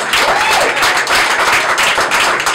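A close, loud burst of audience clapping at a jazz series comedy set, dense and continuous hand claps with a faint voice mixed in underneath.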